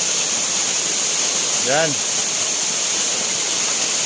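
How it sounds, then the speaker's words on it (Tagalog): Fikong Falls, a tall waterfall dropping into a shallow pool, roars as a steady broadband hiss close by. A voice speaks briefly over it. "ito yung tinatawag na Pikong Falls"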